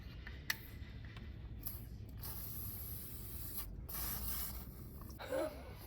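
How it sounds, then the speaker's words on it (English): A spray is applied around a horse while getting it ready, with bursts of sharp hissing spray between quieter stretches of soft rustling and mechanical clicks, moderately close. "Maybe while that's out, I'll give it another spray."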